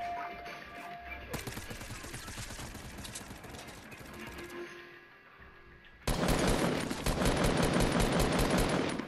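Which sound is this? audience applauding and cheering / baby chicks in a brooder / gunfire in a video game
gunfire in a video game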